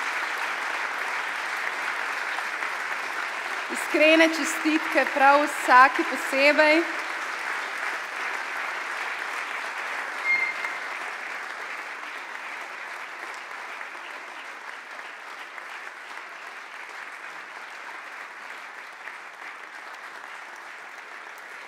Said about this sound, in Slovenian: Tudi zanje en gromozanski aplavz.